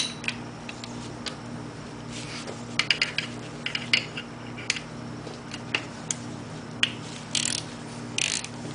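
A ratchet with a long extension works a valve cover bolt loose on a BMW R1100RT motorcycle, a run of fine, rapid clicks with a few sharper ticks, close and steady, with no talk.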